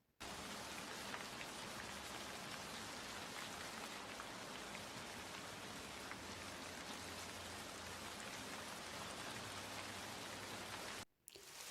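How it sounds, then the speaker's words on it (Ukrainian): Steady, dense rain pouring down hard, a continuous loud hiss of heavy drops with no pauses, cutting off abruptly just before the end. "Так, це злива."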